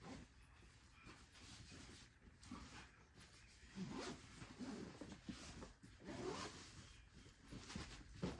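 A compression packing cube zipper being pulled shut while packing clothes for a five-day cruise, a quiet, continuous scratchy rasp of zipper teeth with a few short strokes and rustling fabric, close up and faint, with no talking.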